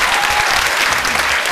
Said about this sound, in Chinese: 再给我们评审老师掌声鼓励一下